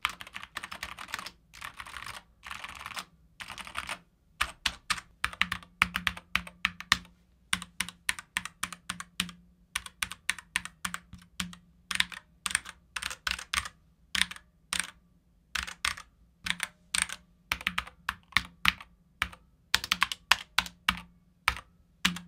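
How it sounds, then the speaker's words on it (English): Keys clack on a SteelSeries Apex Pro keyboard fitted with Prismcaps keycaps, close and crisp, in bursts of quick typing separated by short pauses. "as you can tell with the sound of the board, it sounds much better than the stock ABS keycaps"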